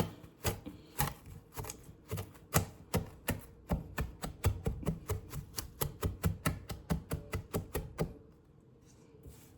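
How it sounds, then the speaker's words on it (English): Food is chopped on a cutting board with a knife, about two dozen quick, crisp, evenly spaced strikes close by, ending abruptly into quiet. "Please do not come at me for the way I'm chopping this."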